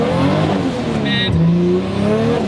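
A 500 hp 2JZ-powered drift car pulling hard in third gear, its engine note climbing and revving loudly close by, with a brief shift dip midway and some tire noise, no talking.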